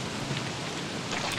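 Rain falls steadily in the video game Don't Starve, a dense, even hiss of drops with no voices over it.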